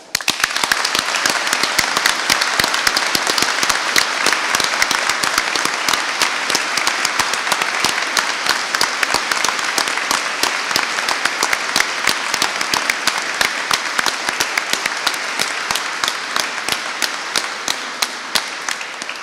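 A university graduation ceremony audience gives the graduates a long, loud round of applause, a thick continuous roar of countless clapping hands sustained for nearly twenty seconds without talk.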